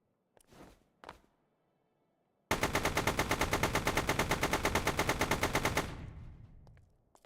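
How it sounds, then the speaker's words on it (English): A few single muffled thuds come first. Then a rifle in the StormWorks video game fires a sustained, loud automatic burst of rapid, evenly spaced shots lasting about three seconds, followed by a brief echoing tail and faint clicks. "I think if I actually grab a rifle, I should be able to shoot through it"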